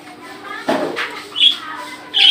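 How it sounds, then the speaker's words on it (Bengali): A one-year-old male myna bird calls at the Mirpur 1 bird market, giving a few short sharp chirps and whistles close by amid light background bustle. "চমৎকার এক পিস ময়না পাখি, ছেলে ময়না পাখি, বয়স 1 বছর।"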